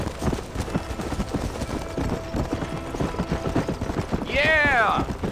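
In the Red Dead Redemption video game, a horse gallops with rapid, continuous clip-clop hoofbeats close up, and a short whinny-like cry rises near the end.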